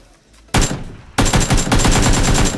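Sharp single gunshots from a PUBG match ring out loud and close, two distinct blasts a fraction of a second apart, the second followed by a dense, continuing burst of rapid reports with no talking.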